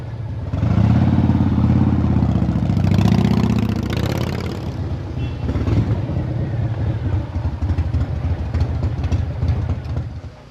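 A motorcycle engine runs close by, a loud rumbling idle that swells and revs before settling into a steady throbbing putter with some mechanical clatter.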